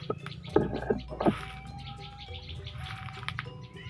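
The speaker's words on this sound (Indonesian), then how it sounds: "suara burungnya." Small birds chirping outdoors, a few sharp close chirps early on, then scattered faint tweets and calls at a distance over a soft background.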